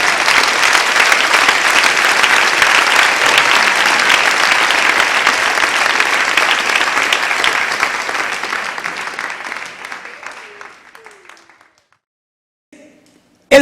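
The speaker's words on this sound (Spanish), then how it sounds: "Denle un aplauso al Rey en esta mañana." A church congregation breaks into loud, sustained applause during a Spanish-language sermon, steady massed clapping that thins and fades out near the end, followed by a few faint sounds.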